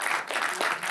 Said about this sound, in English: They're applauding that we still know our names.